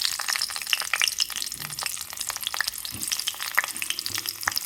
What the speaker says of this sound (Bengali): গ্যাস বাড়িয়ে বেগুন ভাজবেন, বেগুনে অতটা তেল টানবে না